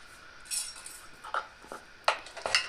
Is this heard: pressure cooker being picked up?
yes